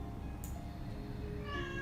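A house cat meows a few times indoors during a yoga session, the short calls rising over a steady background hum, with no talk over them.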